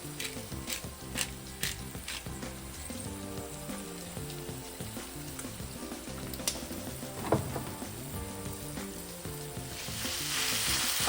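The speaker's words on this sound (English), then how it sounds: "we're just getting our meat browned" Ground beef browning in a pan for tacos, cooked without power during a hurricane, a faint steady sizzle with scattered utensil taps and a rising hiss toward the end, no speech.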